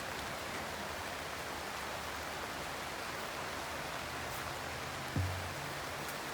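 Rain falling at an outdoor graveside funeral service, a soft, even hiss of drops that holds steady throughout, broken by a single low thump near the end.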